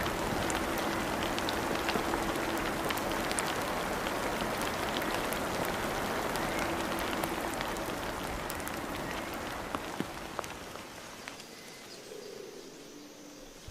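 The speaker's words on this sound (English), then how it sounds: "The rain softens the soil and revives the land." Steady rain pours down on Christmas Island, a dense even hiss of drops on the ground and foliage that holds for most of the stretch before thinning out near the end.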